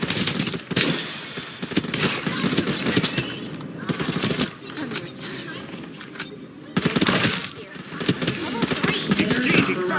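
Rapid automatic gunfire in the shooter video game Farlight 84, loud bursts and dense volleys over several seconds with brief pauses, while game voice callouts speak over the shooting.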